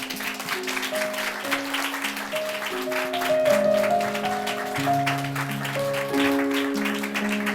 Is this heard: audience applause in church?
yes